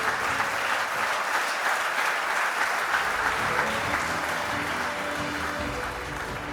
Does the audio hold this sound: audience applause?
yes